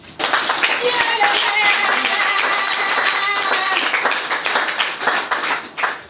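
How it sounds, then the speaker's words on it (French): An audience at a political declaration by the ANALCO party president claps steadily and loudly for about six seconds, with voices carrying over the dense clapping throughout. "Donc je vous prie d'applaudir."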